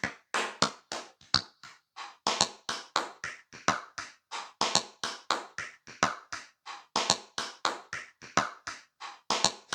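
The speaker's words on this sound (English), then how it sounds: "I'm going to start with some claps." Hand claps looped in Ableton, a steady run of sharp, dry claps repeating in a tight rhythm with no voices, close and crisp throughout.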